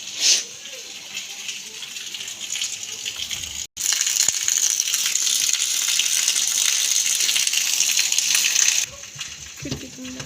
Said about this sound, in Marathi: सकाळपासून आमच्या पाऊस चालू आहे बघा